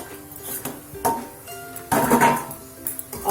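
Cabbage stirred in a metal pan with a spatula while it cooks down. Close, irregular scraping and clinking strokes come one after another, with one louder, denser stretch of stirring in the middle.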